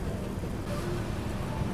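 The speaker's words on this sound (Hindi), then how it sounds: "क्या स्वागत हुआ है, बारिश बिल्कुल एंट्री पे ही" Rain pours down in a Mizoram valley in a steady, close hiss with a dense patter, and nothing else breaks through.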